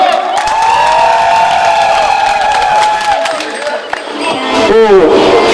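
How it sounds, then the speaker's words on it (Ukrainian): Loud cheering and clapping from a karaoke audience with whoops and shouting voices, fading briefly near the end before a final burst of crowd noise and talk. "Ваші оплески."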